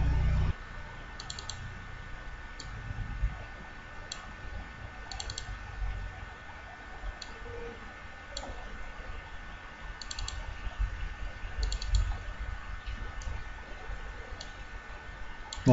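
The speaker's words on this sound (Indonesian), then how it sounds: "Double klik, bisa langsung ke sini saja." Computer mouse double-clicks during a CorelDRAW editing session, short crisp click pairs recurring at intervals over a steady low background hum, close and fairly quiet with no talk.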